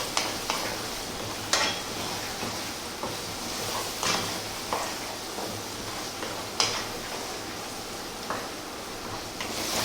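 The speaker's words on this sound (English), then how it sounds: "stirring pretty much all of the time." Ground cashew nuts stirred in a pan while cooking for an Indian chicken curry: a soft, steady scraping and sizzle with periodic sharper clinks of the spoon against the pan, fairly quiet throughout.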